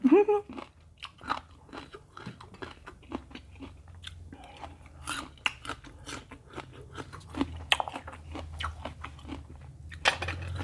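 Crunchy bites and chewing of sour, astringent green mango (katoi variety) eaten with shallots and a thick fermented-fish chili dip, repeated close crunches throughout with someone talking intermittently.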